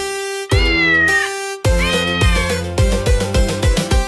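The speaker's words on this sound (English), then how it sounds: "I'm a cat. Meow!" A cat meows twice, drawn-out and clear, then gives a string of shorter, quicker meows, loud and close with no other sounds.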